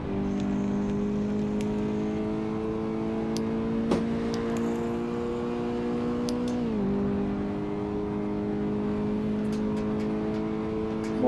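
A Toyota GT86 race car engine drones steadily at Silverstone in a sim racing game. The tone holds constant with one small shift in pitch, and faint clicks sit over it.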